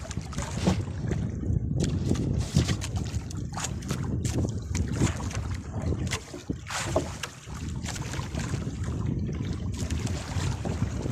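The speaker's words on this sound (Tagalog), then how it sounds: "grabe napakalakas ng hangin" Strong wind roars across a fishing boat at sea while grouper fishing with a fly lure, a loud, steady broadband rush with gusty surges and buffeting thumps against the microphone throughout.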